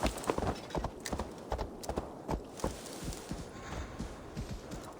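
Horse hooves clip-clop steadily on the ground in the Viking video game Assassin's Creed Valhalla, a close, rhythmic walking gait of repeated sharp knocks with game ambience behind.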